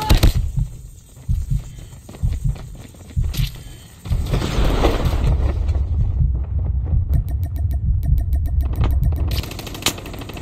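An enemy vehicle rumbles in the COD Mobile shooter. A few heavy thuds come first, then a steady, throbbing low drone that carries on close and fairly loud to the end, with faint sharp clicks and pings over it.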